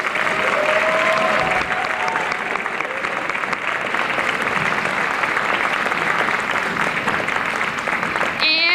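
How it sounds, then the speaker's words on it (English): Sustained audience applause fills a high school band concert hall, dense steady clapping at full strength from start to finish, with a faint murmur of voices underneath. "give them a round of applause"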